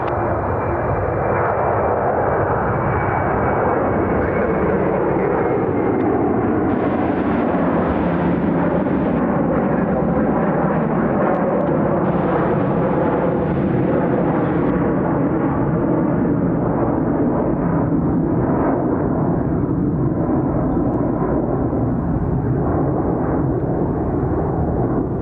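An airliner lands on runway 28 center at Chicago O'Hare, a loud continuous roar of jet engines that swells and slowly fades over about twenty-five seconds, with no voices.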